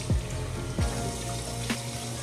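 Warm water runs from a tap in a steady hiss, with a few soft splashes and drips punctuating the flow, close by and moderately quiet.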